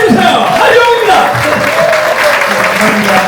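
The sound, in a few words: audience applause and cheering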